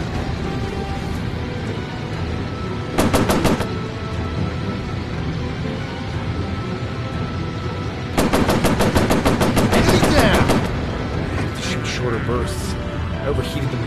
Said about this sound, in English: Overheated the machine guns.